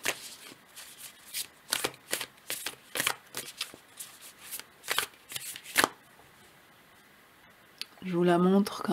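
Tarot cards are shuffled by hand in quick, crisp riffling bursts. The shuffling is close and slightly irregular, then goes quiet before a voice starts speaking near the end.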